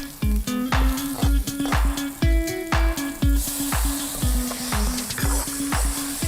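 Garlic, onion and tomato sauté in a pan, a sizzle under repeated close scraping and knocking of a utensil against the pan in a steady rhythm, with faint metallic ringing.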